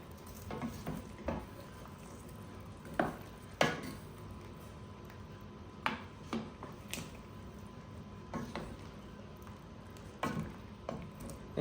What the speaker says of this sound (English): I'm just going to stir this a little bit.